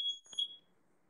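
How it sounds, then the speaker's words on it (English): A smoke detector mounted above a kitchen oven gives a short, piercing electronic beep with a faint click partway through, then goes quiet. No one speaks. "Some asshole put this smoke detector right above the fucking oven, so as soon as you open that shit, every time"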